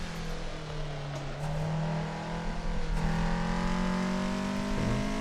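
Toyota AE86 on a mountain touge run, engine note heard from inside as it holds and climbs in revs, with throttle shifts and gear changes, fairly faint and steady with no speech.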